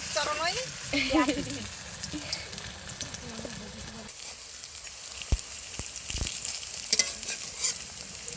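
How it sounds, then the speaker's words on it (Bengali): Drumstick leaf fritters frying in hot oil in a village kitchen, a continuous close crackling sizzle with scattered sharp clicks and taps, with faint voices in the background early on. "এক ভালো করে ভাজা হয়ে গেছে আর একটা পিট উল্টে উল্টে ভেজে নেবো"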